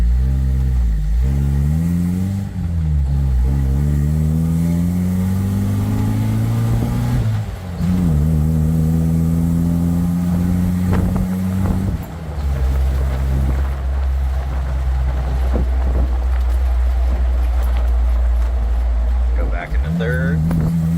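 A 1995 Jeep Wrangler S Jurassic Park replica on the move, its engine loud and close, revving and climbing through gear changes, with someone talking over it throughout.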